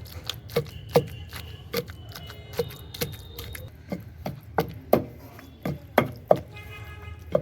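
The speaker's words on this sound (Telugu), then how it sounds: "బాగా మెత్తగా అయ్యే వరకు దంచుకోవాలి" Roti pachadi chutney pounded with a pestle in a mortar, a steady series of sharp, close thuds at roughly half-second intervals, slightly uneven in rhythm, with no talk.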